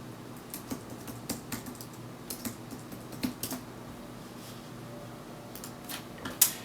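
Computer keyboard typed on to enter a login, a string of quiet, irregular key clicks in short bursts with a sharper tap near the end, set against a faint steady room hum.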